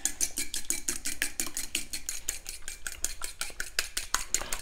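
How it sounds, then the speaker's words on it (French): Egg yolks whisked with a fork in a bowl, a fast steady train of light clicking strokes, close and continuous for several seconds with no talk. "je vais venir mélanger les jaunes"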